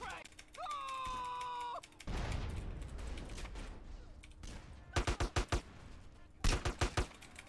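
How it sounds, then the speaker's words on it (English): Rapid bursts of gunfire in GTA San Andreas, two loud clusters of close, evenly spaced shots following a stretch of engine noise and chaotic street sound. "Who is shooting me?"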